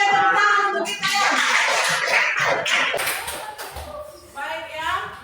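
A class of schoolchildren clapping together in a classroom, a brisk burst of hand claps mixed with children's chatter, fairly loud and close, thinning toward the end.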